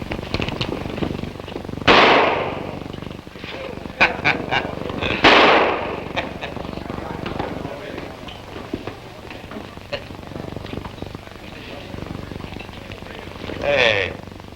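In a 1950 television western, shots ring out during a shooting contest. Two sharp, loud gunshot bursts sound a few seconds apart, with voices and lighter noises between them.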